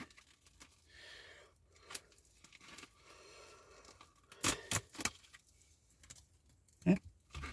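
A monthly subscription box package being cut open with scraping and rustling of cardboard and packing, then a few sharp clicks and snaps, with scattered bursts close by and quiet gaps between.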